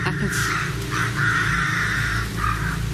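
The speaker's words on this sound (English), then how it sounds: "Growling bird." A crow caws repeatedly outdoors at Lydiate Abbey during a ghost hunt, its harsh calls fairly close and prominent over a low steady background rumble.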